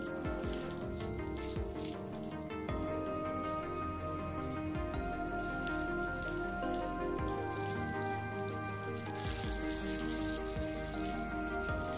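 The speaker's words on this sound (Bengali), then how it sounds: "ফুলকপিটা দিয়ে মিনিট 3 ভাজতে হবে।" Cauliflower, carrot and beans frying in a pan for vegetable pulao, giving a steady quiet sizzle and crackle that continues without pause.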